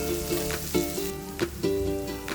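Shredded spicy chicken in sambal matah being stirred in a pan, a steady sizzle and frying crackle broken by several scraping strokes of the spatula, close and moderately loud, no voices.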